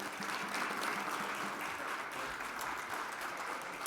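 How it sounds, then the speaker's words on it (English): Audience at a morning leadership breakfast giving a round of applause, a steady, fairly faint wash of many hands clapping throughout. "Give yourselves a round of applause for showing up this morning."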